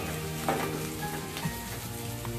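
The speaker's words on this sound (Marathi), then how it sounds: "हा टोमॅटो आपल्याला मऊ होईपर्यंत व्यवस्थित या कांद्यासोबत परतून घ्यायचा आहे." Chopped tomato frying with onions in a pan for a Malvani shell masala, giving a steady soft sizzle throughout with a couple of faint stirring scrapes, moderately close and with no talking.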